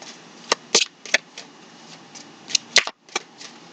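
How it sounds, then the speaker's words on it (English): A tarot card deck is shuffled by hand, giving quick, crisp riffling bursts and soft card slaps in two short clusters, close and clear over a quiet background. "I should shuffle the way I normally shuffle."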